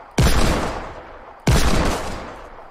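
Desert Eagle pistol shots in the Fortnite video game: two sharp, loud reports about 1.3 seconds apart, each trailing off in a long reverberant tail, with no voices over them.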